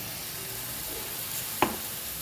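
Cluster bean bhaji frying in a pan with salt and lemon juice, a soft steady sizzle with one brief sharp clink of a utensil partway through.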